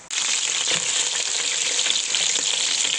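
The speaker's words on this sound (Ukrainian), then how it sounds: "запечатуємо нашу начинку і смажимо під кришкою" A steady, even sizzle of potato pancakes with mushroom filling frying in a hot pan under a lid, close and continuous with no talking.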